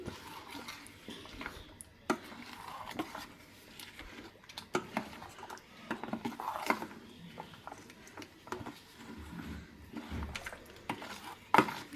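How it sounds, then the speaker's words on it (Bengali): A ladle stirs jaggery in a metal pot to melt it for wood apple sherbet, producing repeated scraping and clinking at an uneven rhythm, close and moderately quiet. "আমি হাতা দিয়ে নাড়াচাড়া দিয়ে গুড়টা কিন্তু গলিয়ে নিচ্ছি"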